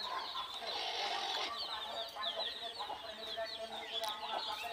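Chickens on a small farm of native deshi hens cluck and chatter continuously in a steady, busy chorus, fairly close, with no talk over them.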